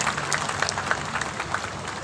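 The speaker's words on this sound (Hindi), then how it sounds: "एक बार आप ताली बजाओ" An outdoor audience at a celebration of Swami Dayanand Saraswati's 200th birth anniversary claps together, a steady patter of many hands at moderate distance that carries on evenly throughout.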